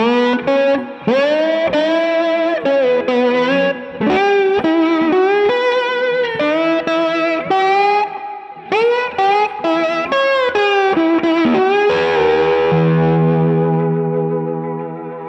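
Slide guitar plays a lick in octaves, gliding notes sliding between pitches in short connected phrases through a slightly driven amp tone, ending on a long sustained note that slowly fades, with no one talking.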